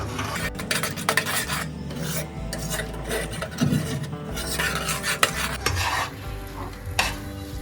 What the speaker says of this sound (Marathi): सगळं मिक्स झाल्यानंतर आपल्याला असं पाच मिनटं सारखं याच्यामध्ये ढवळत राहायचं